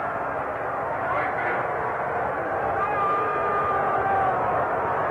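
Baseball stadium crowd at a Dodgers–Astros game jeering first base umpire John Kibler after a disputed out call, a steady broad roar of voices and babble filling the whole stretch without breaks.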